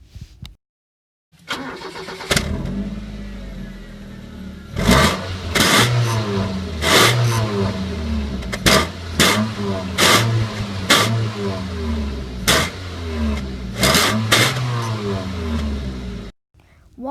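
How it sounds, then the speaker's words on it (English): A Toyota Prius fitted with a DIY soda-can straight-pipe exhaust starts up and revs repeatedly in loud, raspy surges that rise and fall around a buzzing idle, close by. "Take a look at this DIY custom soda can exhaust. It's pretty weird, but it sounds pretty cool."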